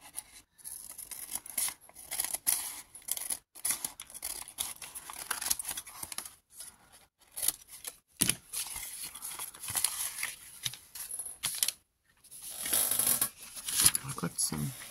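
Scissors cut packing paper for a journal page hinge, a close series of crisp snips and paper rustles in irregular bursts, with short pauses between them.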